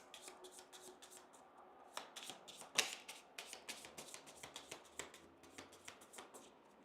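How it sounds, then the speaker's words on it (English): Playing cards for the Undaunted 2200 Callisto board game being shuffled by hand, a close run of soft riffling slaps and flicks in an irregular rhythm, quiet and alone. "Bad shuffling by me."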